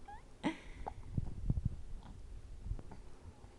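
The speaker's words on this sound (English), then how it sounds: "We hate the hiccups, huh?" A baby hiccups softly a few times in a quiet room, the small jerky bursts faint and close, mixed with a little infant vocalising.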